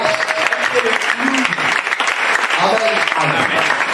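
A church congregation applauds the pastor during a French-language sermon, dense steady clapping filling the hall, with voices mixed in beneath the applause.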